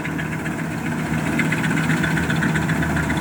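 A combine harvester working a rice paddy gives a steady, close engine rumble with a vibrating drone that holds evenly and has no breaks.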